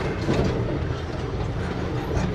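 Open zoo train at the San Antonio Zoo rolling along steadily, a continuous loud rumble of wheels and cars with faint rhythmic clatter throughout, no voices.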